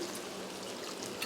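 A quarter tumbler of water poured onto drumstick leaves in a pan makes a brief, close pouring and trickling sound, steady and fairly faint, with no talk.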